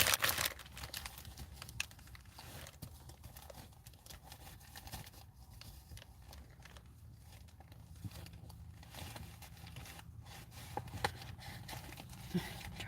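Crinkly rustling and crackling of a paper bowl's packaging being torn open, close by and continuous, with a few sharper crackles and faint voices in the background.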